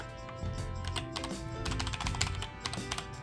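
HyperX Alloy Core Origins TKL keyboard typed on quickly, a close, dense run of sharp clicky keystrokes in uneven bursts with a faint tonal hum in the background.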